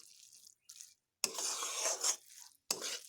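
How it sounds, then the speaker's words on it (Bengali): Figs and rice are fried and stirred in a pan, heard as short scraping, rasping bursts of a spoon with pauses between strokes, close and fairly quiet. "ডুমুরের সঙ্গে চালগুলোকে একটু বেশ ভালোভাবে এইভাবে ভেজে নিচ্ছি"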